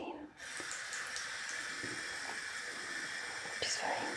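Lukewarm water runs from a tap over a facial sponge in a quiet spa setting, a steady close rush of flowing water with soft whispering underneath.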